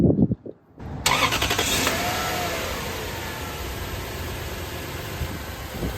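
A Toyota Celsior / Lexus LS400 V8 engine cranks and catches after a brief pause, then settles into a steady, loud idle with a deep rumble that continues to the end, after a motor mount swap.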